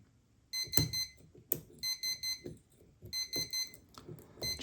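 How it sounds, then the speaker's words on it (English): A kitchen timer alarm sounds in repeated bursts of short, shrill electronic beeps in a steady rhythm, close and clear, with faint handling clicks in between and no talking. "There's my timer."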